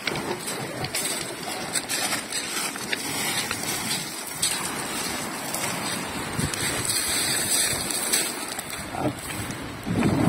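A newly built boat's small 7.5 hp Pro Quip outboard engine drones steadily over open water, mixed with wind and rushing noise, continuous and fairly close for about ten seconds.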